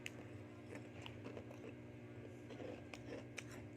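Crunchy chocolate-flavored Konu mini crunch snack is bitten and chewed up close, with repeated soft crackling crunches over a low background hum.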